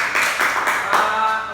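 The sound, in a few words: audience clapping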